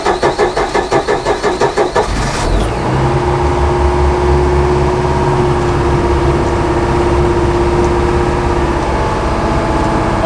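An old outboard boat engine cranks with rhythmic pulls for about two seconds, then catches and runs steadily at around half throttle, a loud continuous drone close by.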